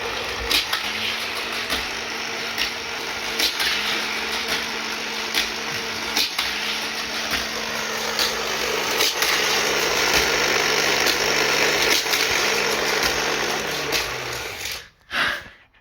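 A Hot Wheels Sky Crash Tower track set motor runs with a loud, steady, vacuum-like whir and a faint periodic clicking, then cuts off abruptly near the end.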